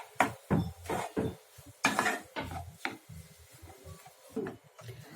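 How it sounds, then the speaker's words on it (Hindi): Potato chunks being mixed and mashed with semolina in a pan, heard as a close, uneven run of scraping and clattering strokes of a utensil against cookware, loud bursts separated by short pauses, with no talking. "अच्छे से हम मिक्स करेंगे कि जो आलू के बड़े टुकड़े हैं वो अच्छे से मैश हो जाए"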